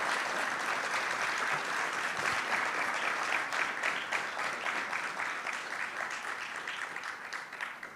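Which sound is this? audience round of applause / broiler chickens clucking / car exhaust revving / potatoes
audience round of applause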